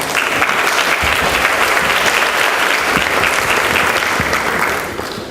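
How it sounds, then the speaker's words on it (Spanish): An audience at an evening talk applauds a speaker with sustained, dense clapping that holds steady for several seconds before tapering slightly at the end. "Un aplauso para ella."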